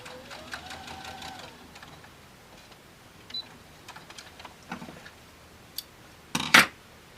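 A sewing machine stitches fabric binding in a short, quiet run of rapid mechanical ticking, followed by scattered small clicks and a brief louder rustle near the end, with no voices.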